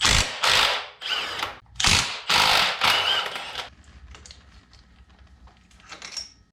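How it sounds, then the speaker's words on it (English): A size 17 ratchet loosens the lowering link nuts on a KX 250X motorcycle, giving loud, close bursts of rapid clicking, then fainter mechanical rattling. "With a size 17, I'm gonna loosen this nut and that nut for the lowering link."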